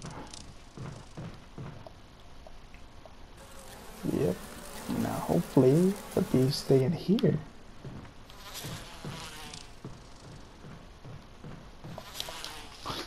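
Bees buzz in a Resident Evil video game, a swarm droning under a player's commentary with a loud close burst in the middle.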